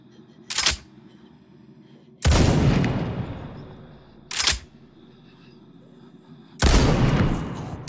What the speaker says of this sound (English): this lever-action shotgun packs a punch